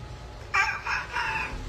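A mimic's voice imitates a rabid chicken with a short, frantic, shrill crowing cry broken into three quick bursts over low background hum.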